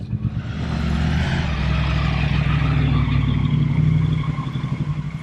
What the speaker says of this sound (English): It's a 1200cc single overhead cam, 270-degree crank. That's why we've got the wop wop sound.